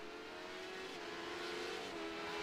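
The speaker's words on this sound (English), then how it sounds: "Terrell, very easy to spot in the Taco Bell sponsored race car." A Honda LMP2 race car engine drones on track at Miami Speedway in a Legacy Sports Car Series race. The steady, buzzing engine note holds nearly constant pitch with a slight dip near the end. It is fairly faint and plays alone, with no talking.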